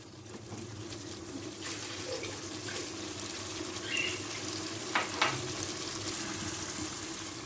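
Masala fries in a kadhai with a continuous close sizzle. A couple of soft stirring clinks come late on, and no one speaks.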